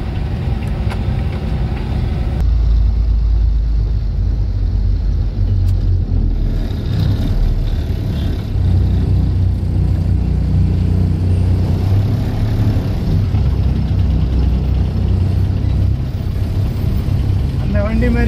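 A vehicle driving on a road holds a steady, loud engine drone throughout, while people talk over it.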